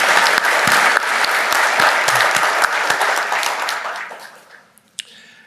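Audience at a district meeting and election claps in a steady, dense round of applause that thins and fades out toward the end, leaving a few scattered final claps; moderately loud, no talking.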